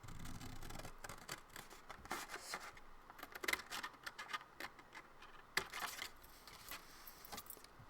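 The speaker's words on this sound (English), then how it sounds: "So I'm cutting just right on the fold." Scissors snip along the fold of a paper sheet in a craft idea book, a run of quick, close, crisp cuts and rustles with no talking.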